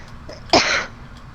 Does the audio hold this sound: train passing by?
no